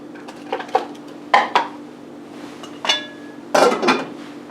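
Dry ramen noodles dropped into a metal cooking pot, giving several close clanks and rattles of metal spaced out over a few seconds, with quiet gaps between them.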